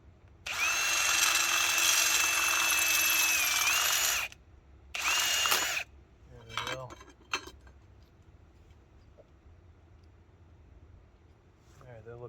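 Power drill boring a hole with a 3.5 mm bit, a loud, steady whine lasting about four seconds, then a shorter second burst, followed by faint clinks and handling noises.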